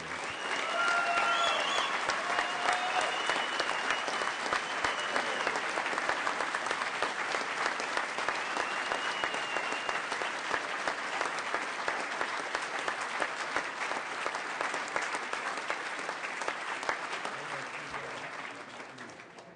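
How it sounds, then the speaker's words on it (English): Sustained applause from a large audience at a swearing-in ceremony for California's 28th Chief Justice, loud and dense from the start and tapering slightly toward the end, with no talking over it. "Let's have a final round of applause for our 28th Chief Justice of the state of California."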